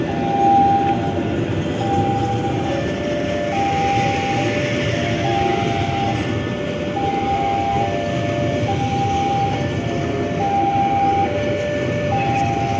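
Gajah Mada passenger train passing through Jogja, a close continuous rumble of rolling cars with a repeating high tonal squeal or whine over the wheel noise, with no talk.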